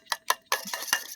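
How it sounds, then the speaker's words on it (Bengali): A spoon whisks sour yogurt in a bowl for sweet curd made from powdered milk, a few quick close scraping strokes and clinks, the last half second becoming a continuous brisk rattle. "এটাকে কিন্তু এখন চামচের সাহায্যে বা দিয়ে তোমরা ভালো করে এটাকে কিন্তু ফেটিয়ে নিতে হবে"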